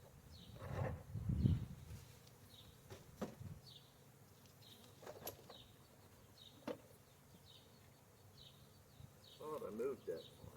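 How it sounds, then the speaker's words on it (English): Honeybee field bees returning to the hive, a faint buzzing hum with scattered bees passing close, under a few soft spoken words and some handling noises. "Yeah, I know, you're all the field bees coming back."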